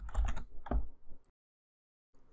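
Quick bursts of typing on a computer keyboard entering a spreadsheet function name, close clattering keystrokes in a rapid cluster, then a pause and a few more keys.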